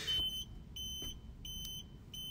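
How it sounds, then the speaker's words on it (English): A Dometic 3-way fridge freezer sounds its door-open alarm, a faint, high electronic beep repeating in short regular pulses over quiet background noise. "Now I've got a beep because I've had the fridge freezer open for too long"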